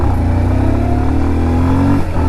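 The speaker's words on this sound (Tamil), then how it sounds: "ஆனால் நல்லா போகுதுங்க வண்டி, நல்லாவே இருக்குது." A 2024 Bajaj Pulsar 150 motorcycle engine hums steadily while riding, a loud, continuous drone with a slowly rising pitch and no talking.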